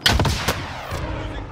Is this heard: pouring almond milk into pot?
no